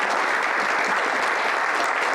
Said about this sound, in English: So big round of applause for the Soroptimists.